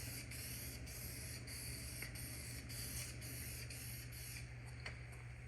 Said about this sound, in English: This part isn't so necessary as much as spraying the top of it